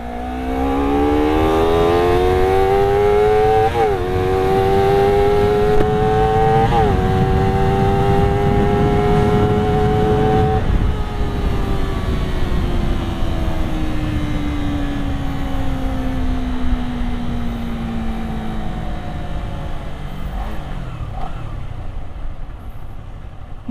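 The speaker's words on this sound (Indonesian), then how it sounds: "Ini kita main di RPM 2000, apa, main di gigi 2," A two-cylinder motorcycle engine runs hard in second gear at high revs, a loud, steady drone that climbs in pitch, holds, then slowly winds down, close to the listener with no talk.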